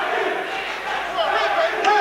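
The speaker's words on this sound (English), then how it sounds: "And the New South Wales crowd starting to come to life." A boxing crowd in Sydney, New South Wales, roars during a fight as a dense, loud wash of cheering and shouting that swells toward the end.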